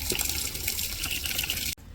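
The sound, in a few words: water spurting from auto irrigation timer system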